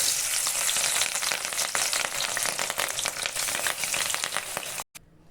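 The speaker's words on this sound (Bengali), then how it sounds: "আমি এখন মাছগুলো ভেজে নেব" Fish pieces fry in hot oil in a wok, a dense continuous loud sizzle with crackles, cut off abruptly near the end.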